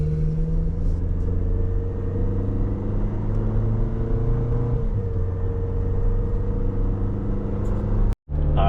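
A 2023 Toyota Tacoma SR pickup with a 2.7L engine and 4x4 cruises along at steady speed, its engine hum and road rumble loud and continuous, broken by a brief dropout near the end.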